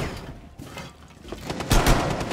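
Video game gunfire, a rapid burst of close, loud shots rattling in quick succession and intensifying toward the end over a steady background rumble.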